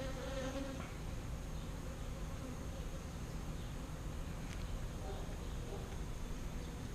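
Honey bees buzz continuously in an opened hive with newly emerging young bees, a dense, even hum close up with faint voices in the background.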